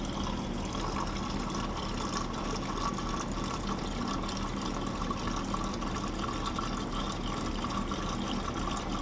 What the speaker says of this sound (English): You can see the bubbling in there.